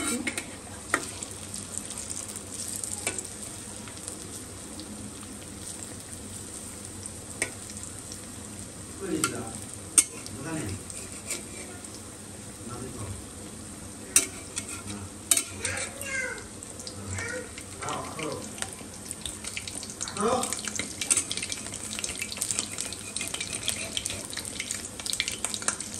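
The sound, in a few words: onions frying and being stirred in pan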